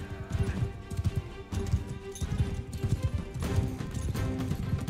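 Horse hooves clip-clop in a video game battle, a steady galloping patter of close thuds running throughout, with a faint whinny mixed in.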